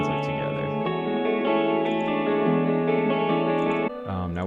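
Melodic guitar beat processed with delay, reverb, a maximizer and a stereo widener: sustained layered guitar tones ring with echoing tails at a steady loud level, shifting to a lower chord near the end.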